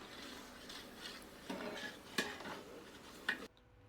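Mutton biryani masala is stirred in a large pot for a 5 kg batch, giving faint, soft scraping and occasional light metallic knocks of a utensil against the pot, with no voices.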